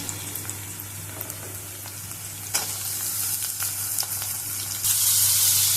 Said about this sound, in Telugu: పచ్చిమిర్చి వేగి ఉల్లిపాయ వేసుకున్నాము